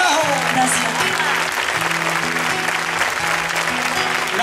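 Festival crowd applauds at an open-air copla performance in Chipiona, clapping steadily throughout while a sustained musical accompaniment carries on underneath.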